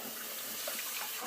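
Cold running water streams from a tap as a shaving brush is wetted, a soft, even hiss of flow lasting only a moment, quiet and steady with no speech.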